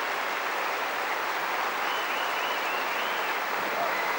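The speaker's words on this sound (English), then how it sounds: "The crowd is standing and applauding as they should." A tennis crowd at a 1989 quarterfinal between Navratilova and Sukova stands and applauds, a steady, dense wash of clapping filling the arena from start to finish with no voices on top.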